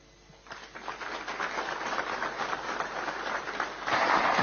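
Assembly delegates of the Paraguayan football federation applaud their president, a dense, steady wash of clapping that swells in after a quiet start and grows louder toward the end, with no talk over it.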